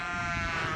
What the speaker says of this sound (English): I'm just going through a sheep field, as you can see and hear.